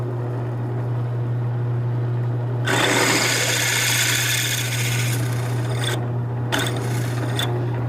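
A steady electric hum runs throughout, then a harsh grinding drill noise bites in for a few seconds as it drills through steel, and stops, followed by two short bursts.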